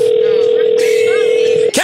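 An outgoing telephone call gives a loud, steady electronic ringing tone that holds for most of the moment, with faint voices behind it and a brief break near the end.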